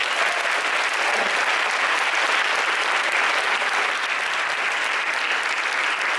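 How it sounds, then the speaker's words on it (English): An audience claps through a Model United Nations training session, dense, continuous applause that stays loud and even for about six seconds with no talk over it. "Can we have a bigger round of applause from him?"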